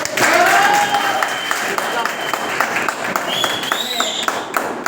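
Audience applause during a lively speech, steady clapping from a crowd that holds at an even level for several seconds, with a voice faintly audible beneath it.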